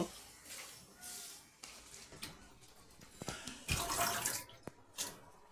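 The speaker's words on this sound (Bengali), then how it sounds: "তো এই পাতাগুলোকে খুব ভালোভাবে জল দিয়ে ধুয়ে নিতে হবে।" Gima shak leaves are rinsed with water, running and splashing in irregular surges with a louder gush near the end, fairly close, with no speech.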